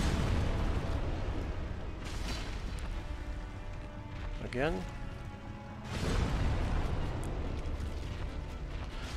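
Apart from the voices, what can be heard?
explosions from an enemy in the video game Dark Souls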